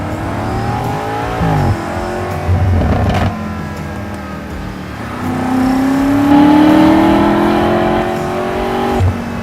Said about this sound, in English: The exhaust is loud now.